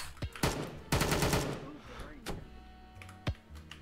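Gunshots ring out in VRChat, a few sharp cracks and a short rapid burst scattered across a few seconds, fairly quiet overall, with voices talking in between.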